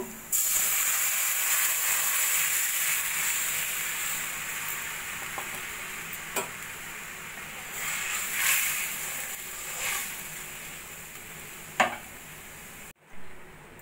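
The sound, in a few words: yogurt and gram flour mixture added to hot pan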